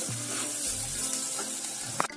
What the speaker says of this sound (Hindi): 5 मिनट तक हमें इसको पकाना है ताकि मसाले जो है अच्छी तरह से पक जाए